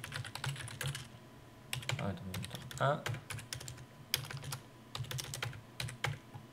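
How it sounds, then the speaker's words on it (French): Clicky bursts of typing on a computer keyboard while Word 2007 is in use, with Tab key presses among the keystrokes, some rapid and some spaced out, heard fairly close. A brief spoken word falls in the middle. "la touche tabulation qui permet d'éviter de perdre du temps"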